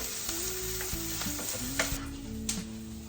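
Garlic frying in olive oil in a pan, a steady dense close sizzle with a few small pops and a faint clink of stirring, continuous throughout and no talking.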